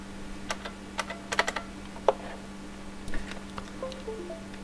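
Typing on a PS/2 keyboard during a converter build, with irregular bursts of close, quiet key clicks over a steady electrical hum.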